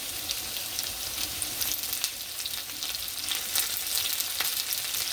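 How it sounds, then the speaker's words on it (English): Cut okra sautéing in a pan after chopped ginger, a dense steady sizzle with scattered crackles and scraping stirs, close and loud, with no voices. "saute the bhindi for a couple of minutes"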